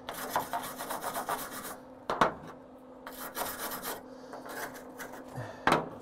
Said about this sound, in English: I'm using my wire brush to clean it down with